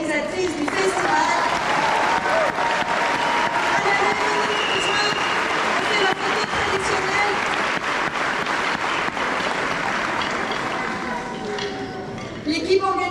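Loud, dense applause from a large festival audience for the organizing team, sustained for over ten seconds with a few whoops and the clatter of a busy hall, fading slightly near the end.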